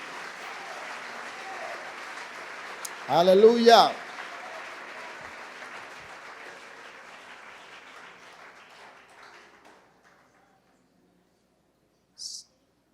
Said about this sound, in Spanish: Dele un aplauso al Señor, si usted lo cree.